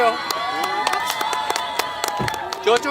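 A large outdoor crowd applauds and cheers at a public welcoming event, with dense sustained clapping, whoops and shouts mixed with voices, loud and steady throughout.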